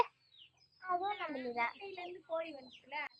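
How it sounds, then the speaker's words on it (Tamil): A rooster and a hen cluck close by in a backyard, several short, tonal calls in bursts with brief pauses between them. "அது ஒரு சேவல், இது ஒரு பொம்பளை கோழி."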